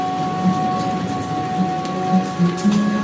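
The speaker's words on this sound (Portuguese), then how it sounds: "Escute o som da chuva caindo na grama e no telhado" Rain falls steadily on grass and a roof, a close, even patter with scattered louder drops and soft taps, heard alone without any voices.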